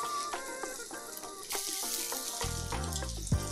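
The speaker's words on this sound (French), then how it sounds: "Faites fondre une belle noix de beurre dans une poêle et ajoutez la pomme en une fois." Apple pieces hit melted butter in a frying pan, giving a steady sizzle under light clinks and soft background music, with a brief scrape near the end.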